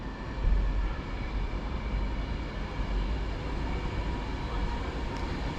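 An Avanti West Coast train, an eleven-coach Class 390 service from London Euston to Wolverhampton, arrives at Birmingham International station on the West Coast Main Line with a steady, loud rumble and roar that holds throughout.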